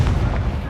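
A Confringo fire-blast spell bursts in Hogwarts Legacy, a loud low rumbling explosion that fills the moment and slowly tails off.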